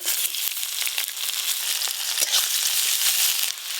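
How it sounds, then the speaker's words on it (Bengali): Thickly chopped onions fry in mustard oil with a steady, close hiss dotted with small crackles and pops throughout, and no voices. "এই পেঁয়াজ কুচিগুলো কিন্তু আমি খুব বেশি লাল লাল করে ভাজবো না"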